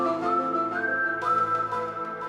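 A whistle instrument played for a film score gives sustained, slightly wavering pitched tones, close and alone, the melody gliding between notes.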